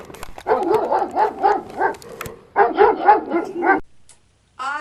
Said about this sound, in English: The dogs! The dogs! Here come the dogs!